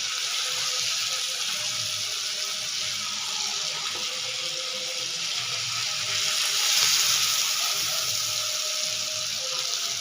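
Masala sizzling steadily in a pan over a medium gas flame for a simple fish curry, a continuous hissing fry that holds through the whole stretch with a slight swell near the end.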